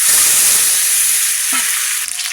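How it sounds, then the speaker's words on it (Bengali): Eggs dropped into hot oil in a pan sizzle and fry in a steady, loud hiss that fills the whole moment, with a brief spatter partway through. "তেল দেবো কড়া। ডিমগুলো দেবো"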